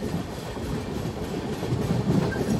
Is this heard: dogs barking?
no